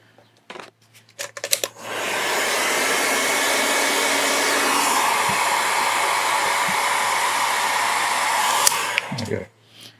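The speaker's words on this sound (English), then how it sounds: "So we'll heat shrink that on." A heat gun blows steadily for several seconds, shrinking heat-shrink tubing onto a wire leg of a Bluetooth telemetry module, with short clicks and handling noises before it starts and after it cuts off.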